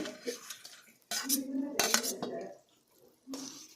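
A spoon clatters and scrapes against a pan in bursts, with pauses between, as tomato is stirred into cooked avarekalu for upma.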